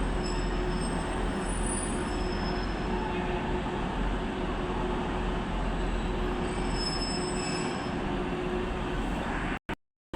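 A short two-carriage Rochdale to Blackburn train moves through Manchester Victoria station with a steady rail rumble and thin, high wheel squeal, close and continuous until an abrupt cutoff at the end.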